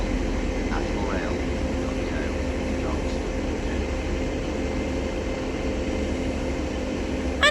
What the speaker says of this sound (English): as this Transpennine Express class 185 now arrives into Stalybridge now